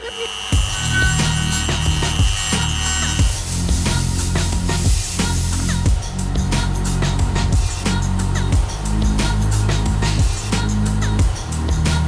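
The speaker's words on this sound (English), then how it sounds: "I'll just clean up that sharp edge just to make it so that lip seal goes in" A sharp edge on a feathering boat propeller hub part is cleaned up with a tool, producing loud continuous abrasive rasping and scraping close by, with repeated strokes and a steady low hum underneath.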